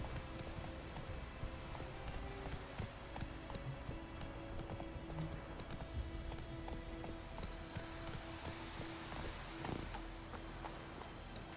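The horse Roach trots in The Witcher 3, its hooves clip-clopping in a soft, steady rhythm under game ambience and a faint hum.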